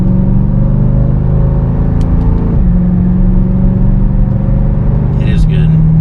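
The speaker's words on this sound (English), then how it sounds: "echo chamber of Hemi exhaust noise" A 2022 Dodge Durango SRT's Hemi V8 exhaust drones in a loud, low rumble from inside the cabin as it accelerates, pitch climbing then dropping twice at quick paddle-shifted gear changes.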